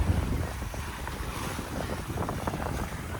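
Wind rushing past a sailboat cruising in about 12 knots of breeze, with steady buffeting microphone noise and the wash of waves along the hull, close and continuous.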